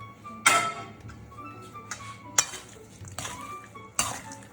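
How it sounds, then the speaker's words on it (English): Bacon and pancetta cooking in oil in a pan, with sharp metallic clinks and scrapes of a utensil against the pan standing out over a low, steady sizzle. "We have the sizzling bacon right up on top, just like that, with all of its cooking oil inside."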